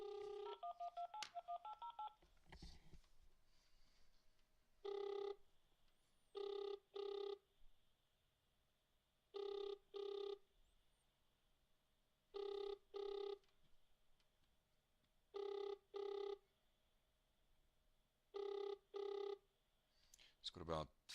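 Telephone call to a South African bank: a quick burst of keypad dial tones, then a distant ringback tone repeating in regular double pulses about every two and a half seconds for the rest of the call.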